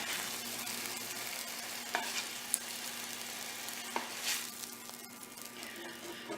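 Steak pieces brown gently in a pan, giving a soft, even sizzle with a few faint clicks and a low background hum. Quiet and steady throughout, with no speech.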